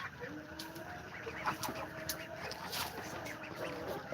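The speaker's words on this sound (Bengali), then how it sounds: "হাঁসের বাচ্চা" Chinese ducklings peep softly in a farm setting, a faint, steady chorus of high chirps and small calls at a moderate distance, with no clear speech.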